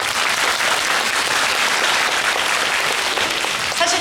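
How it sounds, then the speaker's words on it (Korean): A live talk event audience for the drama series D.P. 2 breaks into dense, steady applause, loud and sustained for the whole stretch with no voices on top. "큰 박수 부탁드립니다."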